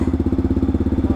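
Motorcycle engine running on dynamometer rollers, a steady rhythmic thumping pulse with strong low-end throb repeating evenly, close and loud throughout.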